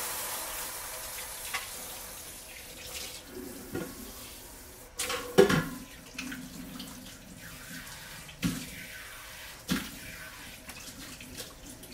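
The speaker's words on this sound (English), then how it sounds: "Wash my hands." Tap water runs into a kitchen sink while hands are washed, a low steady splash broken by a few louder clunks and splashes, close and fairly quiet, with no speech.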